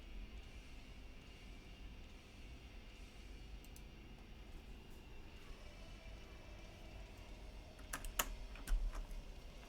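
Faint keystrokes from a mechanical keyboard tap irregularly over a low background hum, with a short burst of sharper, louder clicks near the end.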